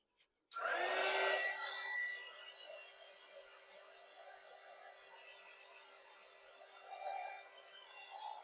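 A heat gun blows hot air over heat-shrink tubing on wires while a hard-wired smoke and carbon monoxide detector is being changed. It switches on abruptly with a loud roar, then settles into a steady, softer whooshing hum that swells again briefly near the end.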